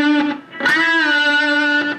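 A single sustained electric guitar note with a gentle vibrato wavering in pitch, distorted and fairly loud, re-picked a couple of times over two seconds.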